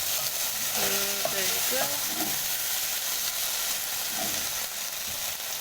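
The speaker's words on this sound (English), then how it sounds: "And mix that all in, followed by the mustard and the black pepper." Chicken curry being stirred with mustard and black pepper in a hot pan, giving a steady sizzling hiss throughout with a few faint scraping stirs, while a voice speaks briefly near the start.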